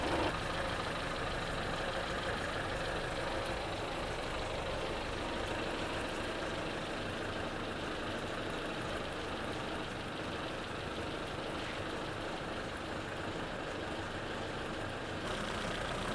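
A Yamaha F50A outboard motor idles after carburetor cleaning and synchronization, its exhaust hole sealed with sealant. It makes a steady low rumbling hum that holds constant and close for the whole stretch, with no talking.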